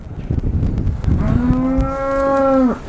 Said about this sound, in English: We find the cow right there.